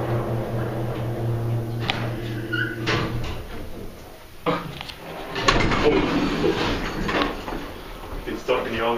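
Old Montgomery elevator doors in a former Dillard's department store at a mall slide and rumble with clunks and mechanical rattles, while people talk nearby.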